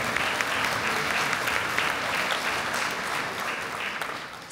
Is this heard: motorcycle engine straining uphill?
no